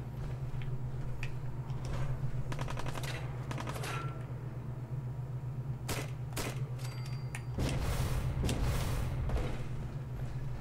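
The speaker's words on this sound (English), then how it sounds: "Who's shooting?" Gunfire in the video game Fallout 4, with bursts of rapid automatic shots and scattered single cracks over a steady low hum, growing louder and denser toward the end.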